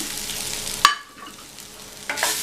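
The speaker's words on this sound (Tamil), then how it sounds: "தேங்காய் துருவல் சேர்த்துட்டு ஜஸ்ட்டு கொஞ்சம் வதக்கினா போதும், 1 நிமிஷம் வதக்கினா போதும்" Grated coconut and green chillies sautéing in a pan for chutney, a close sizzle broken by a sharp metallic knock of the spatula, then a quieter hiss before stirring scrapes return.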